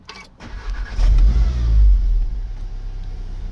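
A 2016 Volkswagen Golf R with keyless start fires up: a brief starter whir, then the engine catches with a deep rising rumble and settles into a steady idle nearby.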